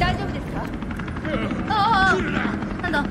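A rescue helicopter approaches in the Resident Evil 3 Remake video game, its rotor drone steady under overlapping game dialogue and a player talking.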